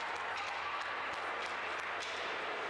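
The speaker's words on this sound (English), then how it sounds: "a huge round of applause for our young men that came up to start the game tonight" A crowd at a school basketball game gives a round of applause, steady dense clapping throughout, heard from a distance and fairly faint.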